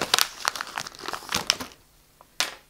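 Packet of Smarties-type sugar-coated chocolate sweets being opened, a close series of crisp crinkling and rustling bursts over about two seconds, a pause, then one final sharp crackle.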